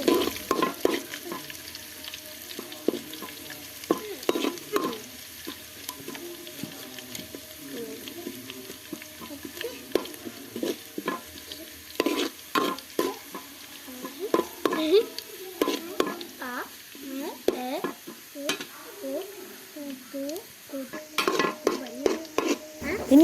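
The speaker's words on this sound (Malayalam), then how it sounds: "കടുക് പൊട്ടിക്കഴിയുമ്പോൾ അതിലേക്ക് വെളുത്തുള്ളി ചേർക്കാം." Whole garlic cloves frying with popping mustard seeds in a pan for a dried mango pickle, a soft steady sizzle broken by frequent sharp crackles and spatters throughout, no voices.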